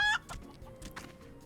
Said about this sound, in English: His green chicken.